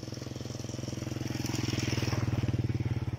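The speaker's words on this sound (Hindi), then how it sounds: "तो ये बाइक है जो मेरे बगल से गुजरते हुए।" Motorbike passing on a forest road on a Maldives island, a steady throbbing engine drone that swells louder as it draws near.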